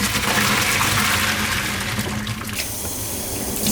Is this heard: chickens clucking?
no